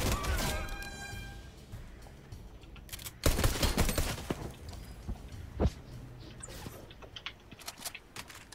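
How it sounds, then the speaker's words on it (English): Gunfire in the Fortnite video game as a henchman is shot: a loud burst near the three-second mark followed by scattered sharp shots and impacts over a busy game soundscape. "I'm gonna shoot a henchman."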